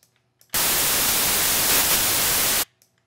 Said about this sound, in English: and white noise.